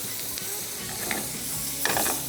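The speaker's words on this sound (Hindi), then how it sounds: "हमने सिर्फ लहसुन को थोड़ा सा फ्राई करना है" Sliced garlic sizzles steadily in a pan of butter and extra virgin olive oil, a constant close crackling hiss with a few soft stirring scrapes and bursts of spattering.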